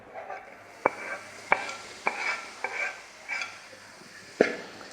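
Tomato and onion being stirred in a pan for a macaroni dish, a spoon scraping in a series of distinct strokes about every half second to second over a faint background, close and clear with no talking.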